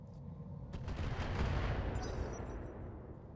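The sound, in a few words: mech weapons firing in the video game RogueTech (BattleTech)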